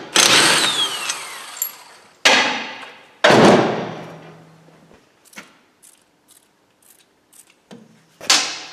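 Metallic clanks and ringing knocks from a tool at an Amazon car's rear brake hub while the split pin and hub nut come off: several sharp close hits with decaying rings, then quieter ticks and clicks, and a final loud knock.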